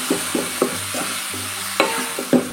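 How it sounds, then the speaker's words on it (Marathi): Finely chopped baby fenugreek leaves sautéing with garlic in a pan, with a steady low sizzle and a series of short spatula scrapes and taps at irregular intervals, close by and without speech. "1-2 मिनिटं आपल्याला अशीच मेथी ही परतवून घ्यायची छानपैकी."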